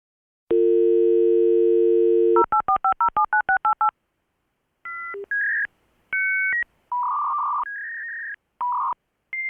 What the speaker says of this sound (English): And then some moron decides to use the phone while I'm doing this.